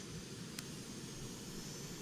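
F/A-18 Super Hornet jet engines in Arma 3 spool up with a faint, steady broadband whine and roar, continuous and even throughout, with a single brief click partway through and no talk.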